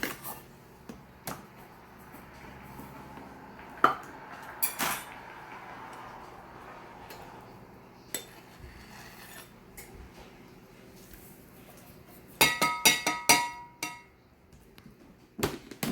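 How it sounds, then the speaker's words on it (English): A fork stirs zucchini bread batter in a bowl, giving quiet intermittent scraping and knocks that build into a louder run of rapid clinking strokes near the end, with no speech. "Now we'll take our fork and stir that up."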